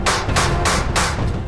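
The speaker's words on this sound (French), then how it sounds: "Allez, on va chercher le marteau." A hammer taps a pin into a small gear on a miniature V8 engine build, four rapid metallic strikes in steady rhythm, loud and close against a noisy workshop background.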